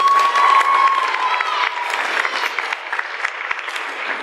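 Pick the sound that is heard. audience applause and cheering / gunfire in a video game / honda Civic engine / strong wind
audience applause and cheering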